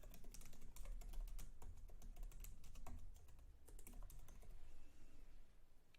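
Quiet, steady keyboard typing, with a continuous patter of soft key clicks and a few sharper taps throughout, alone without any voices.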